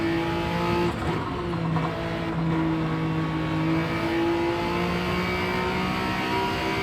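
Onboard a car driven hard through understeer, the engine holds a loud, steady droning rev, rising and dipping slightly throughout, with no talking.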